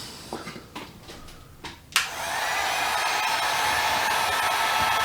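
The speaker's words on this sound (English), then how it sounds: "And then you just take a heat gun," Heat gun switched on to dry wet wood fibers on a gun stock, a few handling knocks and then a sudden steady loud blowing hiss close by.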